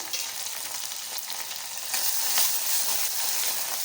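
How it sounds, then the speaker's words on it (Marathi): Ghee tempering with asafoetida sizzles steadily as turmeric goes in for a drumstick dal, a dense, bright crackle that swells louder about halfway through and keeps frying continuously without any talk. "फोडणी झाल्यानंतर त्यात हळद घालायची आहे"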